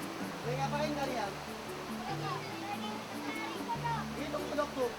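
A clear mountain river runs over rocks with a steady, soft rush of water, while children's voices chatter close by over it.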